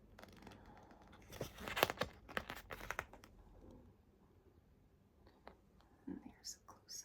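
A diamond art kit sticker sheet being handled up close, with a cluster of crinkly rustling and papery tearing-like sounds early on, then quieter intermittent soft handling noises.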